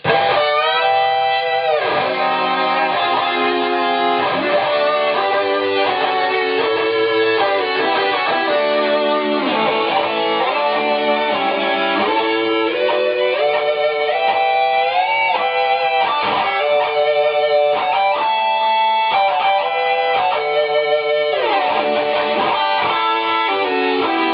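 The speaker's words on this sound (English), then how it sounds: "the only other pedal I got here is the Harmonist" An electric guitar through an Eventide Harmonist pedal plays a long, flowing lead line doubled by stacked three-part harmonising voices a few notes apart, loud and sustained, with no talking.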